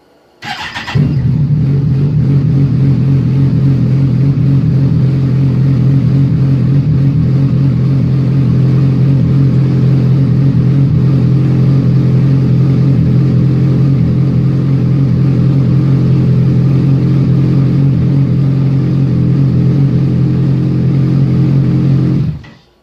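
A Kawasaki ZX14R motorcycle starts with a quick crank, then idles steadily and loudly at close range for about twenty seconds, a deep even rumble before cutting off abruptly.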